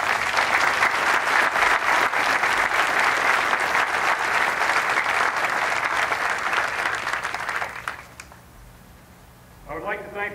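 Sustained audience applause at a 101st Airborne Division change of command ceremony at Fort Campbell, loud and steady from a large crowd, fading out toward the end before a voice begins speaking.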